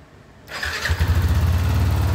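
A Yamaha NMAX version 1 scooter with an overheating problem cranks and fires up after a brief quiet moment, then settles into a loud, close, throbbing engine rumble.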